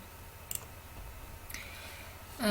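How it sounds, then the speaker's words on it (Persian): A computer mouse gives a couple of crisp, quiet clicks near the start and another around the middle, spaced apart against a low, hushed room background. "کافیه کلیک کنم روی علامت میکروفون"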